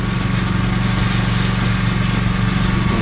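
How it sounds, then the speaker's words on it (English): A belt sander runs continuously at close range, a loud steady motor drone with grinding abrasion as it sands an oak crib railing set with epoxy. "Turn it back over to my belt sander."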